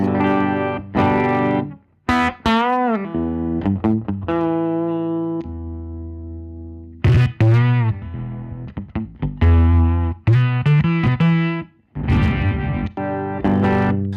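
Clean electric guitar, a Melody Maker with P90 pickups, playing single notes and chords with bright sustained tones, some slides and bends, moderately loud with no voices.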